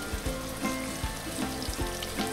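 Mushrooms frying with golden garlic in a pan, a continuous close crackling sizzle with periodic low thumps from stirring, no voices.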